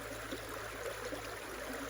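Water from a flooded gold prospecting dig, poured and drained off sluice equipment with V-matting, makes a steady close trickling, gurgling rush that runs continuously without a break.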